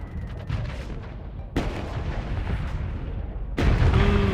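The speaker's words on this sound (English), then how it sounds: "Fling the missile." In the space combat video game Starsector, a missile launches with a sharp blast and then explodes in two more heavy booming hits that each trail off into a low rumble.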